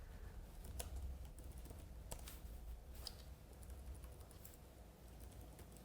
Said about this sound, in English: For example purposes, I'm just typing in jargon.